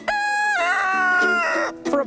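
A rooster crows loudly and close by in one long drawn-out call, followed by a few short clucks at the end.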